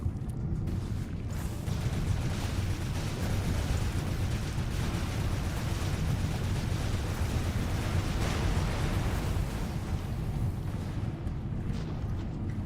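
Rocket explosions boom in a video game, blending into a dense, continuous, loud rumble of blasts that runs the whole time without a break.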